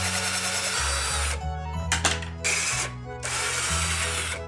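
A power drill whirs in bursts, speeding up and slowing down as it bores small screw holes into wood, with brief pauses between runs.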